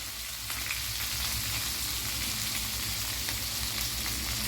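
Chicken kalmi kabab frying in about two tablespoons of cooking oil over a high flame, giving a steady, close, dense sizzle with a crackling hiss that runs unbroken throughout, and no talking.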